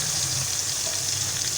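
Onions are browning in oil for a chickpea curry, giving a steady, close, even sizzle of frying that holds without a break.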